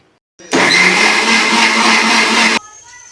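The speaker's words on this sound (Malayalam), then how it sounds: "ഉപ്പും ഒക്കെ ഇട്ടിട്ട് ഒന്ന് മിക്സിയിലിട്ട് അടിച്ചിട്ട്" A kitchen mixer grinder whirs loudly for about two seconds as it blends spices, salt and tamarind water for a fish curry, starting and stopping abruptly.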